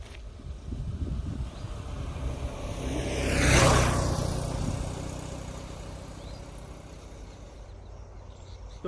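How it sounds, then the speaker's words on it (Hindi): A motorbike passes on a road during an outdoor workout. Its engine grows from a distant rumble to a loud peak close by, then fades away as it leaves, with no talking over it. "तो इस बाइक को भी निकलने देते हम।"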